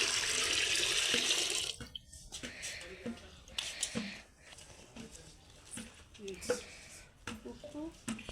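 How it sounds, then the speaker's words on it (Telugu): Water pouring into a cooking pot set up to boil potato chips, a strong rushing splash for the first couple of seconds, then scattered drips, clinks and handling noises with a voice speaking. "డేక్ష పెట్టిన తర్వాత ఎసరుకు నీళ్ళు పోసుకోవాలి."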